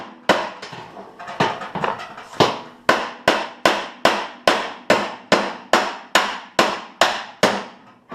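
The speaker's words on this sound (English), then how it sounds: "sometimes the best thing to do is to come on the back side and work on the front side with your hammer" Steel hammer striking the back side of a 1954 GMC truck fender, delivering a loud, close, steady series of about twenty ringing metallic blows at a brisk, even rhythm.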